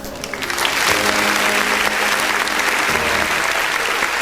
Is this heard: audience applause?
yes